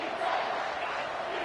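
A football stadium crowd yells on third down in a loud, sustained roar that stays steady and dense for the whole moment, with no single voice standing out.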